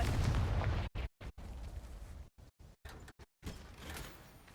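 A Confringo spell in the Hogwarts Legacy video game erupts in a loud, rumbling blast, followed by a string of short, punchy explosive bursts separated by abrupt silent gaps.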